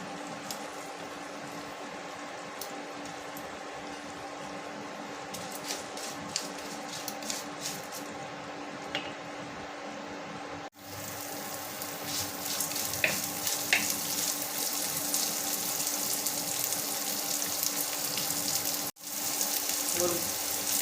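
Finely chopped onion frying in a pan for rava kitchadi, a soft sizzle that jumps to a louder, brighter crackle as it hits the oil, with a brief clatter and a hum running underneath.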